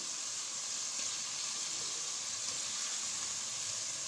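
A steady, soft sizzle of tomatoes frying in hot oil for beef charsi karahi, an even hiss that holds level throughout with no talking.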